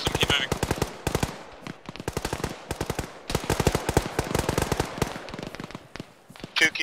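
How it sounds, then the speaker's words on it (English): Dense gunfire in a video game firefight: rapid automatic bursts and single cracks follow one another almost without pause, fairly close and loud. "Shooting at us now, Winnie."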